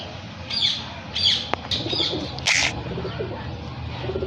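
Teddy pigeon cooing mixed with scattered bird chirps and a few brief wing flutters, fairly close against a steady outdoor background hum.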